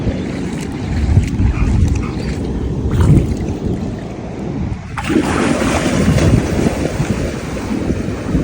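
Sea waves and gusting wind at a Siargao beach, with heavy wind buffeting on the microphone and a continuous surf wash that swells louder midway, no speech.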